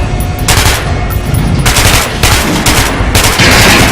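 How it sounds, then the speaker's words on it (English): Automatic weapon fire in the video game Metro: Last Light Redux: loud, close bursts of rapid gunshots, several sustained volleys with short pauses between them, heard alone without talking. "Try out the rest of the weapons. Try shooting down his chest."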